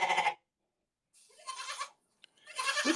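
A voice imitates a goat bleating, giving three nasal, quavering bleats separated by silent gaps, loud and close.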